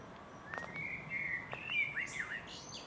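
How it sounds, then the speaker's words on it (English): Blackbirds sing along a countryside walking route, a few faint, fluting phrases and short chirps at a moderate distance over a quiet outdoor hush. "Plenty of blackbirds on this route as well."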